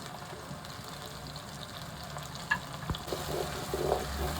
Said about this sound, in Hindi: हमने इसको फ्राई कर लिया है।